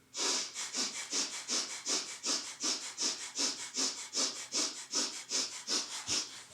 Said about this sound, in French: Vous pratiquez la respiration du feu.